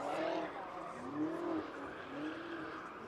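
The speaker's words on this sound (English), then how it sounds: "So the M5 has lined up again. Second attempt. Gets it sideways. Rotate the car. Slides it." A BMW M5 drifting sideways at a Red Bull drift clinic: engine revving rises and falls with tires sliding and squealing at moderate distance, in two or three swelling pulls.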